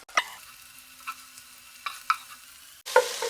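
A spatula scoops chicken fried rice out of a hot pan in several scraping strokes over a faint sizzle, ending with a louder clatter.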